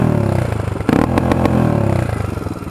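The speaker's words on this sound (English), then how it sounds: "you're in reverse with this ridiculously sounding rev limiter" A modified Honda 300EX ATV in reverse, its engine bouncing hard off the rev limiter in a loud, close, rapid stuttering buzz of repeated pulses.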